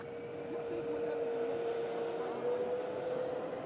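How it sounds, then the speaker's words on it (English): An EasyJet airliner holds on the runway at an airport, its engines giving a steady, moderately loud idling drone with a constant whine running through the whole stretch. "And the EasyJet lined up to go for Antalya."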